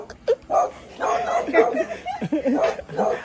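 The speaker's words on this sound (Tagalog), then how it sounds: "So mayroon po malalapang aso rito." Dogs barking at a party at night in a village setting, several short sharp barks and yips in bursts close by, with laughter and voices mixed in.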